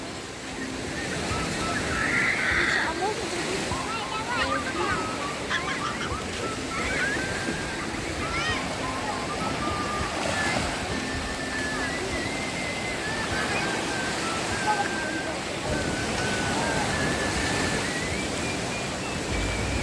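Sea waves break on a beach in Odesa, a steady broadband wash of surf running through the whole stretch, with faint voices and beach chatter in the background.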